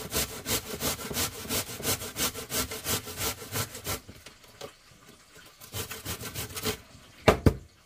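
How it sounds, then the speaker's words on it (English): Breadcrumbs are shredded on a hand grater in a kitchen with quick, rhythmic rasping strokes close up. A short pause comes partway through, then a few more scrapes follow, with no talking. "So now I'm gonna use grater. So this is the side I was doing the breadcrumbs on. So I'm gonna just shred."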